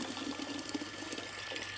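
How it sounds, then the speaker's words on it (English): A farm tap runs in a steady, close rush of flowing water that stays even throughout the brief clip, with no voices. "If you do this, and then the water comes out. The harder you do it, the harder the water comes out."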